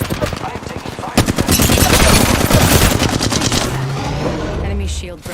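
Machine gun fire in a video game rattles out in a rapid, loud sustained burst of shots, then tapers off into quieter game sounds.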